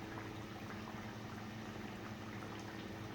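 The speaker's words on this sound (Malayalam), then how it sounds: "അപ്പോൾ മീൻകറി തിളച്ച് റെഡി ആയിക്കൊണ്ടിരിക്കുവാണേ." Fish curry, Kerala nadan style, bubbling over a medium flame in a covered pot: a steady, low, continuous boiling rumble with soft liquid gurgles, close and unbroken.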